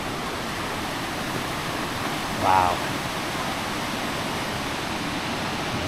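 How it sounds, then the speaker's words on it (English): Steady broadband rush of Navajo Falls waterfall in Havasupai, Grand Canyon, filling the whole scene as a constant roar, with a brief spoken exclamation over it. "Navajo Falls"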